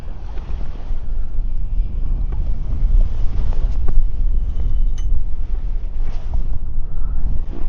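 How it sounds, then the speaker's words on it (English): Strong wind buffeting the microphone at a carp fishing lake during a feeder match, a loud continuous low roar with gusty swells throughout and no talk. "Typical though, the wind just gets up"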